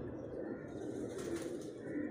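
Pigeons cooing on a rooftop, soft repeated low coos over a constant background murmur, moderately close and fairly quiet.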